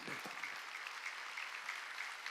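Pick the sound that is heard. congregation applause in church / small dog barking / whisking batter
congregation applause in church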